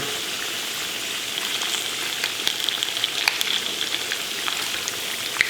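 Potato slices fry in a pan for fondant potatoes, giving a steady close sizzle with scattered sharp pops and crackles throughout.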